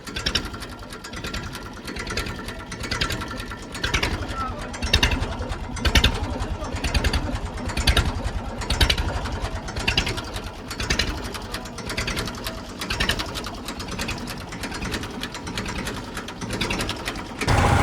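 A sealed tractor engine idling at very low throttle on a farm, a steady rapid mechanical chatter with a throbbing beat that runs for the whole stretch, close and fairly loud, with no voices.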